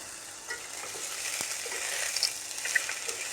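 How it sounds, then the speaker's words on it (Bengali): Potatoes go into a pan of fried onions and sizzle steadily, with a bright continuous frying hiss and a few small pops and stirring scrapes up close. "এরপর যে পেঁয়াজটা ভাজা হয়ে গেছে, এখন আমি আলুগুলি ছেড়ে দেবো।"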